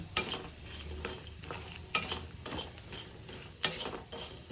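Soya chunks being tossed and mixed in a pan for crispy chips, a steady scraping stir under low sizzle with a few sharper spoon clinks spaced across the stretch.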